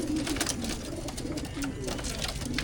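Many pigeons packed together in a single crate coo continuously, overlapping low throaty calls close by, with rustling and background noise around them.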